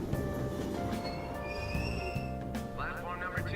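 A train ride in the video game Persona 5, heading back to Shibuya: a steady rumbling carriage hum with rolling low-end and faint squealing tones, continuous throughout, with music or background sound layered over it.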